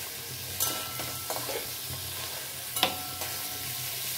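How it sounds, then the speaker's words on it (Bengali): Prawns fry in a hot pan with a steady sizzle, and a utensil scrapes and stirs through them with a few sharp clacks against the pan. "চিংড়িটাও প্রায় ভাজা হয়ে এসছে"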